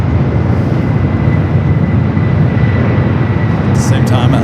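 A Boeing 757 airliner without winglets at LAX roars steadily with loud, continuous broadband engine noise throughout, close and unbroken.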